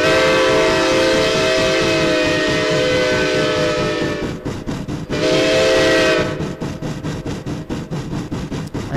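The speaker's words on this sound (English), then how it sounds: "we're gonna get a warning whistle for our tunnel here" A steam locomotive in the video game Century of Steam sounds a long, loud warning whistle before a tunnel, holding a steady multi-tone blast over rumbling wheels, then a short pause, a second blast, and rhythmic chuffing and rail clatter.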